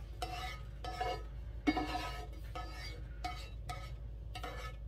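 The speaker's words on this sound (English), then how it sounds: "I'm going to scrape all this off and put this in the pan as well." Roasted beef bone bits scraped off into a pan for broth, a series of about six short rasping scrapes in an uneven rhythm, close and fairly quiet over a low steady hum.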